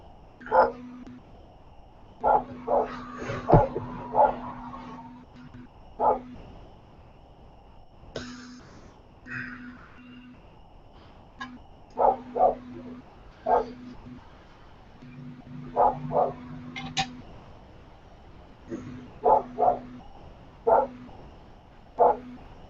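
A dog yaps and barks in repeated short bursts with whimpering yips between them, close and fairly loud, spread across the stretch with gaps of quiet and some voices nearby.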